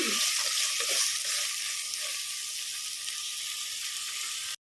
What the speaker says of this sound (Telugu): తోటకూర కాడలన్నీ కూడా ఫ్రై చేసుకోవాలి ఆలుగడ్డ ఇవన్నీ మంచిగా ఫ్రై చేసుకొని నూనెలో ఉడకాలి